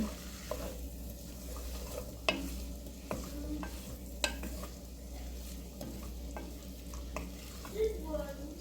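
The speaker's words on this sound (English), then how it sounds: "So I put those 4 potatoes in and we're just now mixing them." Rustic potatoes with bacon and onions sizzling in a pot over low heat, stirred with a utensil that scrapes and clicks against the sides at irregular moments over a soft steady frying hiss.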